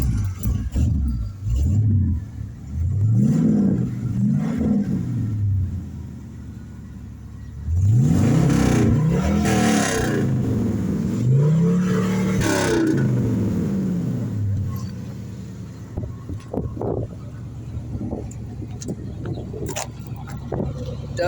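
A 1969 Mexican-spec Chrysler Dart GTS with a 318 V8, four-speed manual and real dual glass-pack exhausts rumbles nearby, revving up twice in swelling bursts and burbling down on deceleration, with wind noise throughout.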